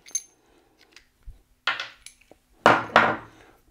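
A self-extracting cap and screw come off a bicycle's Rotor crank, heard as a few small metallic clicks and taps followed by two sharper rattling scrapes of metal parts, close and isolated.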